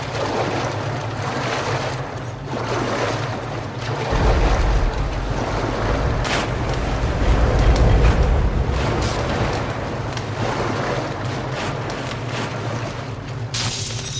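Water and waves in the video game Metro Last Light Redux make a continuous washing surge with wind-like noise that swells louder midway, then settles back to a steady rush.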